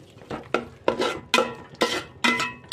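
A spoon stirs tomato rice in a pot just after ground asafoetida goes in, making about six distinct scraping strokes against the metal in a steady rhythm, close and moderately loud, with no talking.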